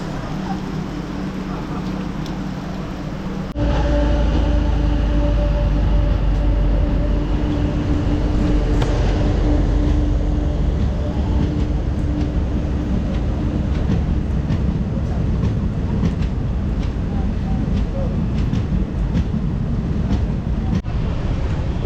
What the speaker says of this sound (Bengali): এই ঠাকুরগঞ্জ থেকে বেরিয়ে গেল ট্রেনটা